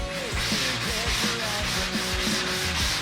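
A sanding block rubs back and forth over the primered body of a Camaro Z28 near the firewall, loud, close and continuous with a steady rhythmic scraping and no talk.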